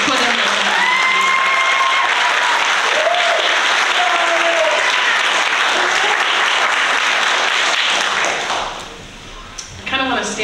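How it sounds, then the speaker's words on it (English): An audience at a high school graduation in Sitka gives a long, full round of applause for a staff member, with whistles and cheers mixed in. The clapping fades near the end as the room settles. "So just a big round of applause for Ellie"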